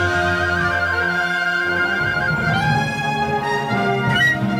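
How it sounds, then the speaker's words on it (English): Piccolos trilling within a full orchestra, captured close on a spot microphone during a recording session, with shrill rapid trills sitting over sustained lower orchestral tones, loud and continuous with no talk. "So you really hear those trills in the piccolos very clearly on the spot mic."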